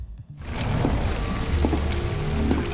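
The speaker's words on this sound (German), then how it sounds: "Und es regnet in London." Steady video-game rain in London patters and hisses on surfaces, with a few louder drops standing out, starting abruptly after a brief quiet moment.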